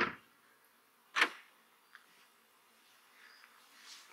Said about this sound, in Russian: Наши пчелки тут жужжат.